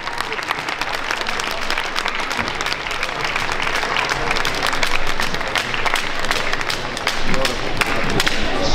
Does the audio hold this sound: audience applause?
yes